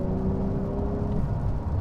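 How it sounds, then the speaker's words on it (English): Inside a 2021 Porsche 911 Turbo of the 992 generation at speed, a steady roar of road and wind noise fills the cabin, with a faint tonal whine running through the first part. "It is quite loud in terms of the road noise and the wind"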